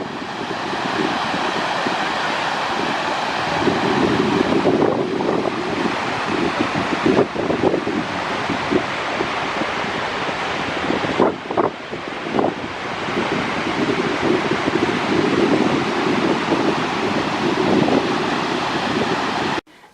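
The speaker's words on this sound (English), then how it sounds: "You will see a waterfall, which here's the first one I saw." A waterfall in Iceland roars as a steady, loud, broadband rush of falling water, with gusty wind buffeting the microphone throughout and no voices.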